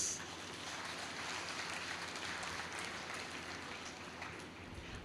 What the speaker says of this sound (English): with a round of applause.